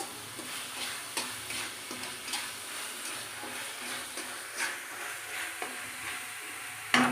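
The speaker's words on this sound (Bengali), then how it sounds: "এটাকে নাড়াচাড়া করবো তেল কিন্তু ছাড়া অবধি এটাকে কষতে হবে যাতে মশলাটা ভালো করে ভাজা হয়" Spice paste with green chilli and ginger fries in oil while being stirred, a soft constant sizzle broken by regular scraping strokes of a spoon, close but fairly quiet, no talk.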